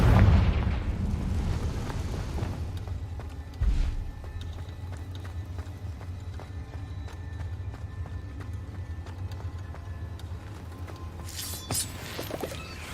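A Confringo blasting spell bursts in Hogwarts Legacy, a loud booming explosion at the start that decays into a low rumble, followed by a second, smaller blast partway through over steady game ambience.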